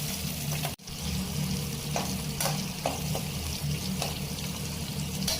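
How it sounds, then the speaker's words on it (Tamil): Steady crackling sizzle of fish frying in hot oil, with occasional clinks and stirring sounds close by. "சால மீனை போட்டு ஃப்ரை பண்ண ஆரம்பிச்சிட்டாங்க."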